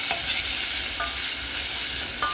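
Tomatoes sizzle in hot oil in a pan, with a steady bright hiss and a few short scraping stirs of a utensil, close and alone.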